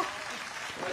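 Brief burst of audience applause on a late-night comedy talk show set, clapping washing broadly across the room with a short louder swell near the end.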